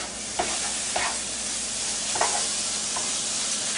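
Mustard chicken pieces sizzle steadily as they fry in a pan, with a few distinct scraping stirs of a utensil punctuating the continuous close frying hiss, no voices.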